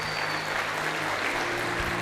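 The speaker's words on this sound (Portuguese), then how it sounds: "Você pode aplaudir a Jesus?" Brief burst of steady applause from a church congregation, many hands clapping evenly at moderate volume, with a faint tonal hum in the room.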